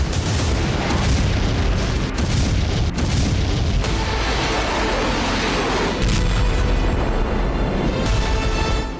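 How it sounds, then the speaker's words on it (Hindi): Artillery shelling along Ukrainian front lines sends out continuous heavy booms and blasts, one dense roar that stays loud and close throughout with repeated impacts building on one another. "यूक्रेनी मोर्चों पर बारूद बरसाया गया।"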